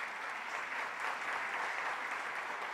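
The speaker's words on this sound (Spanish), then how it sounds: "Demos un aplauso" Audience applause at a school event on coexistence and inclusion, a steady, even wash of clapping heard from a distance at moderate volume with no voices over it.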